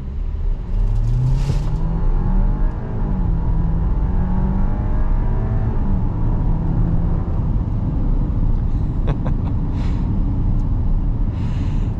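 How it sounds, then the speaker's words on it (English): A 2025 Audi Q7 45 Premium Plus with a turbocharged four-cylinder pulls away from a stop, heard from inside the cabin as a loud, steady engine drone whose pitch rises through the gears with road rumble underneath. "We might be able to do an acceleration from a dig."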